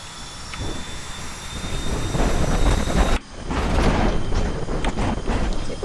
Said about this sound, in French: C'est quoi cet avion?